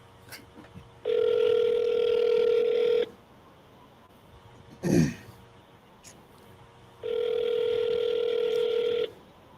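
Two long steady ringback tones on a telephone call, each lasting about two seconds with a pause between, plus a brief throat-clearing noise in the gap; the call goes unanswered and is forwarded to voicemail.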